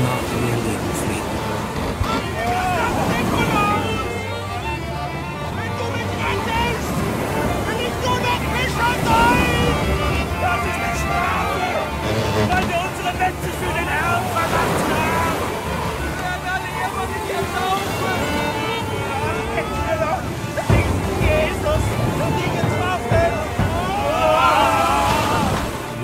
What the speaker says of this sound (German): In jener Nacht erhob sich schwarz ein Sturm über dem Rhein.